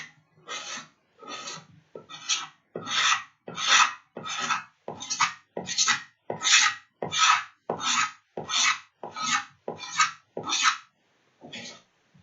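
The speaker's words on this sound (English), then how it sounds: "Now you can hear from that sound that this scraper is struggling." A dull hand scraper rasps over guitar body binding in about sixteen steady, rhythmic strokes, each a rough scraping pass of about half a second, close and fairly quiet with no talking.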